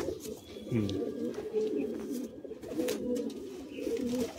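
Madrasi pigeons in a loft in Kharagpur give soft, low, repeated coos close by, with people talking alongside.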